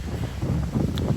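Wind gusts buffet the microphone at a seaside temple in Uthandi, a steady low rushing roar with no voices over the short stretch.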